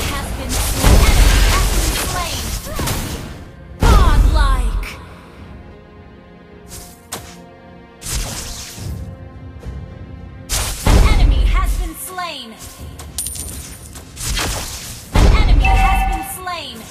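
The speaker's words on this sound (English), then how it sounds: "Our turret has been destroyed." Repeated heavy explosions in a video game as a turret is destroyed, four or five loud booming blasts spaced a few seconds apart with rumbling decay and game audio between them.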